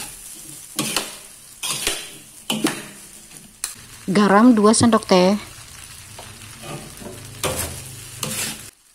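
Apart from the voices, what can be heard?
stirring frying rice vermicelli in a wok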